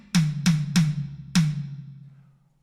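Four sharp drum hits ring out alone in a quick fill moving from the snare onto the high tom, each strike bright and close, with the last one decaying into a short ringing tail.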